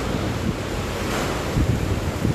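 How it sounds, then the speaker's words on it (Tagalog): Strong wind from Super Typhoon Goni roars without a break, loud and close, with gusts buffeting the microphone and no voices. "grabe ang lakas ng hangin"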